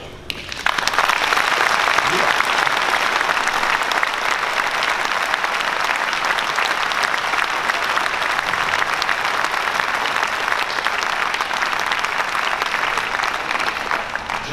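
Audience applause at a mayor's New Year's greetings ceremony in Dijon, a dense, loud, continuous clapping that starts abruptly and holds steady for about fourteen seconds with no talk.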